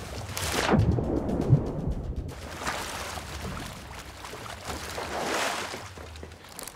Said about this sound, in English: we can just take care of him with a quick shot of the cannon